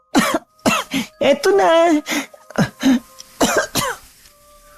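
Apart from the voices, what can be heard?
coughing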